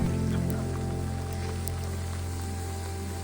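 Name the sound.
rain falling during a hike in Scotland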